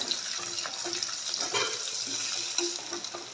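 Fennel seeds sizzle and crackle in hot oil while being stirred in a pan for Jaffna-style banana sambar: a steady, close frying hiss with soft scraping throughout, no voices.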